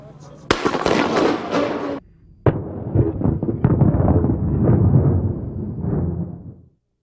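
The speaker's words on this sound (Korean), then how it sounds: "부탄가스통을 가열한 지 3분이 채 지나지 않아서 강한 폭발음과 함께 부서지며 몇 미터를 튕겨 올라갑니다" A heated butane gas canister bursts in an outdoor stadium explosion test, one sharp loud blast followed by a second crack and a longer rumbling, crackling roar that dies away after several seconds.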